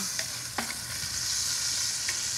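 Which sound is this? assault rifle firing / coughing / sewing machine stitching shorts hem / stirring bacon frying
stirring bacon frying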